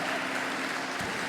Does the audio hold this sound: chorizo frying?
no